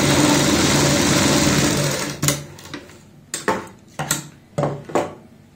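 Sewing machine stitching pintucks on a kameez neckline strip with matching thread: a steady mechanical whir for about two seconds, then several short, loud bursts of stitching with pauses between them, close by.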